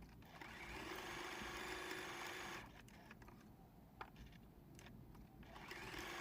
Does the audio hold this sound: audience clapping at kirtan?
no